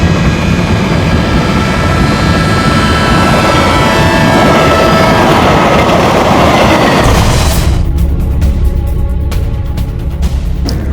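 Train rolling along a railway track beside a station, a loud, steady rumble and rush filling the whole stretch, then the sound thins to a rattling clatter in the final seconds as the cars pass.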